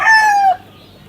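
An F1 gamefowl rooster gives a single loud, close crow that lasts about half a second and ends abruptly, followed by quiet background.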